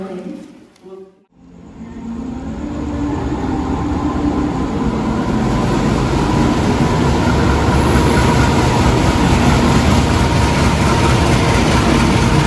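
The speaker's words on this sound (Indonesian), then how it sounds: "Yang barusan datang di jalur 1 ini adalah kereta api Singasari ya teman-teman" The Singasari passenger train pulls into track 1 at a station, its heavy rumble and rolling wheel noise rising after a brief opening and then holding loud and near to the end.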